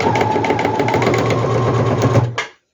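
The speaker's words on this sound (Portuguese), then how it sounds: "Agora eu vou para a máquina e faço uma costura de uma extremidade à outra" A sewing machine runs steadily, stitching a seam end to end through four layers of geometric-print fabric for a handbag, its motor hum and rapid needle rhythm close and continuous before stopping abruptly.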